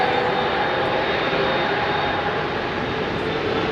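Large jet airliner taxiing at London Heathrow, giving a steady broad engine roar that holds even and fairly loud throughout, with no voices.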